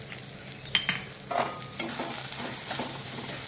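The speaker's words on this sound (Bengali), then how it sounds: "নুন আর হলুদটা দিয়ে চালটা ভেজে নিয়ে নিতে হবে।" Rice frying in hot oil with salt and turmeric, with a few sharp stirring clinks early on, then a steady, moderately faint sizzle building alone.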